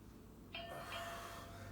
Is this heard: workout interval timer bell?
yes